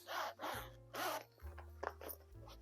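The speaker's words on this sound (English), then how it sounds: "Zipper is very smooth." Smooth zipper pulls on a small pocket of a leather convertible envelope crossbody bag, several short soft rasping strokes close up with brief pauses between them, no talking.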